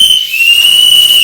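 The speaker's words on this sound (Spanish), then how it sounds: "échate el silbatazo final" A referee's final whistle sounds as one long, shrill, unbroken blast, loud and close and held steady from start to finish with nothing else over it.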